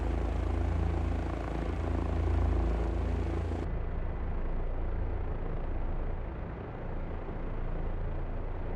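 An AH-64 Apache helicopter in the DCS flight simulator, its rotor and turbine giving a loud, steady, dense drone throughout, with the high hiss suddenly dropping away partway through.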